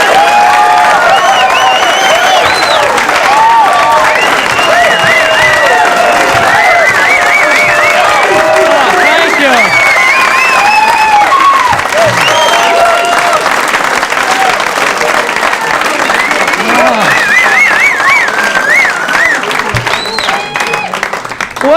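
Loud sustained applause and cheering from a crowd welcoming comedian John Pinette on stage, dense clapping with whoops and shouts throughout, a voice mixed in near the end.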